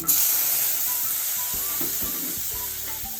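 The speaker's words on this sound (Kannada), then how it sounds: "ಈಗ ಬೇಯಿಸಿದ ಕಡಲೆ ಬೀಜ ಇದರಲ್ಲಿ ಹಾಕ್ತಾ ಇದ್ದೀನಿ" Boiled peanuts go into a hot pan of avalakki bisibele bath, setting off a steady close sizzle with faint stirring and scraping that continues evenly throughout.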